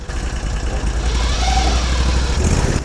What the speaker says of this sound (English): That's that CVT disengaging there